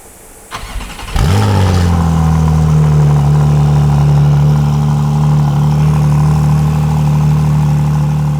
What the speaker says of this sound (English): Now let's give the car a cold crank and see what it sounds like.